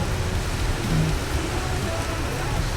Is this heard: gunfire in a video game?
no